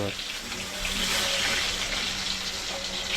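Green chillies and ginger are rinsed under a running kitchen tap, a steady, moderately loud splash and gush of water continuing throughout.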